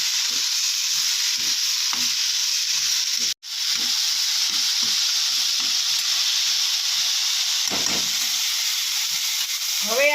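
Vegetables for quinoa khichdi fry in oil with a constant loud sizzle, while a spoon scrapes and stirs the pan in short, irregular strokes throughout.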